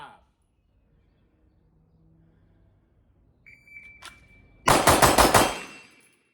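Pistol fire from a Bul Armory SAS II UL compensated handgun at a shooting range: a rapid burst of about five sharp, loud shots close together after a quiet stretch and a short electronic beep from a shot timer.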